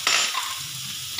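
Vegetables seasoned with pepper sautéing in a pan, a short burst of sizzle and a stirring scrape at the start, then a softer, steady crackle.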